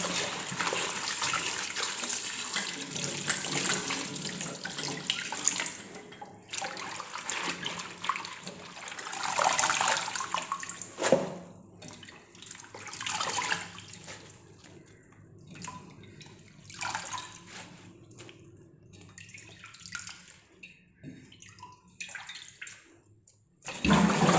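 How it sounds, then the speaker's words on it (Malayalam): Running tap water pours steadily over mixed leafy greens, including Malabar spinach, ivy gourd leaves, Mysore spinach and amaranth, for a Kerala thoran, with splashing and rustling bursts as the leaves are washed, close and continuous without speech. "അപ്പം നമുക്ക് കഴുകി വരാം."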